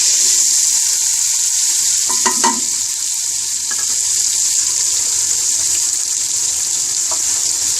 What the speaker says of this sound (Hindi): एक देगची लेंगे, इसके अंदर हम अब प्याज डालेंगे